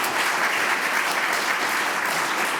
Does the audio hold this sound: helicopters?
no